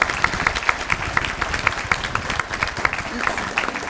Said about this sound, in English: Let's give all of them a round of applause,